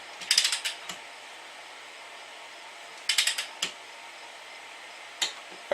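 Mechanical clicks from a tool at work on an Atomic 4 marine engine aboard an Irwin 32 sailboat: two short bursts of sharp ratcheting clicks, then a single faint click and another brief one near the end, with no voices, against a quiet background.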